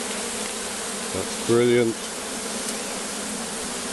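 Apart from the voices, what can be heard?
swarm of honey bees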